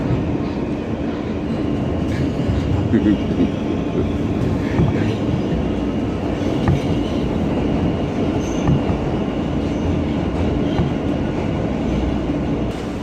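A Budd R-32 New York City subway train runs along the track, a steady loud rumble with rattling and occasional wheel squeal throughout.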